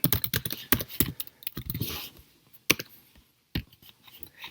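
Quick bursts of computer keyboard key clicks, close and moderately loud, thinning into a few scattered taps with pauses toward the end, no talking.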